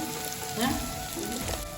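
Spinach sizzles in a hot pan with five-spice seeds, radhuni and green chillies, a close, steady crackling fry that swells briefly midway and never lets up.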